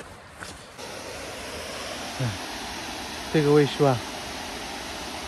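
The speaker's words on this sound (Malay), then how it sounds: "ini hujan" Steady rain hisses in a broad, even wash outdoors in Meghalaya, India, with a few brief voices speaking partway through.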